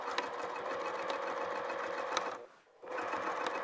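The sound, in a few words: sewing machine back stitching a holiday stocking seam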